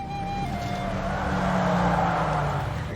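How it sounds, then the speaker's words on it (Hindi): A car circling round and round on a village lane, engine droning steadily up close with a faint tyre squeal over a continuous rumble, nobody speaking. "तू यहाँ क्यों गाड़ी घुमा रहा है?"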